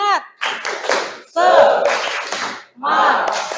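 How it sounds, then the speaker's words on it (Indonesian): Classroom of students doing a rhythmic spirit clap, three quick bursts of patterned clapping with shouting voices mixed in, close and loud. "Tepuk semangat."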